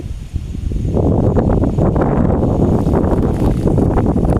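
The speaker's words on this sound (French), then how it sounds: "Vous avez vu comme les branches elles bougent tellement il y a du vent ici." Strong wind at Banan temple near Battambang, Cambodia, roars and buffets the microphone in a loud, continuous rumble that rises after the first second and stays heavy throughout.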